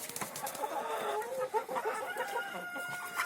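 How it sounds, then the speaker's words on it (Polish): A Leghorn rooster clucks and calls repeatedly at moderate distance, with other fowl sounds around and steady outdoor background noise. "tutaj stary lekhorn, kogut"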